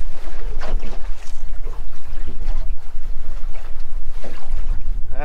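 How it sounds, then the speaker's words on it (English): Strong gusting wind buffets the microphone in loud, uneven bursts while fishing, with water sloshing against a boat in a swift current underneath. "it is windy as all get out"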